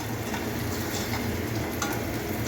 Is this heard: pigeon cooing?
no